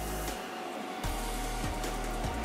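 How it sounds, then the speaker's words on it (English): Braces are welded onto a Suzuki Samurai SJ413 radiator support, a close, loud continuous welding hiss and buzz that drops out briefly and then resumes with a pulsing hum. "So now I'm just welding these braces in here."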